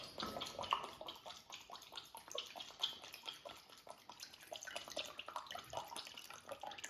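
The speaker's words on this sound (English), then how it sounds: "So first of all, we take half a cup of vinegar." Half a cup of vinegar poured for homemade brass polish, a steady close liquid trickle with small splashy bursts running throughout, no voices.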